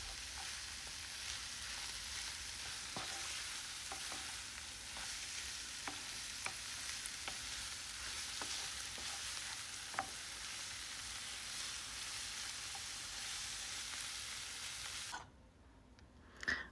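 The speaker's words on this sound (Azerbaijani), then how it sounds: "Duzlu istiyotunu da əlavə edib bunu yaxşı-yaxşı qovururam" Mushroom filling seasoned with salt and pepper frying in a pan, a continuous soft sizzle with occasional stirring clicks, quiet and close, cut off near the end.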